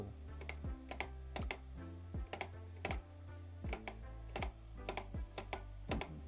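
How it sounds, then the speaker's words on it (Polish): Computer mouse clicked repeatedly during Minecraft play, with sharp, close clicks coming in quick irregular bursts over a steady low game background. "Posłuchajcie mojej myszki."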